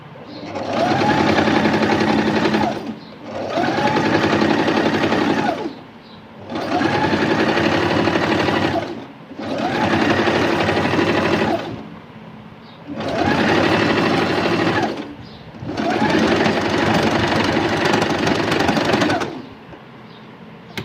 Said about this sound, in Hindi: 1-2 सिलाई ऐसे करके आराम से हमने मशीन चला लेनी है।